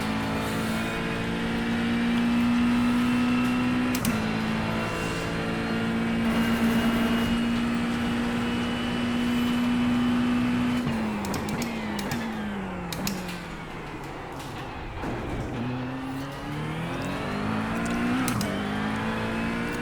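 An Aston Martin race car engine in the iRacing sim drones at steady high revs, then drops and climbs through several gear changes with rising and falling whine, loud and close with no talking.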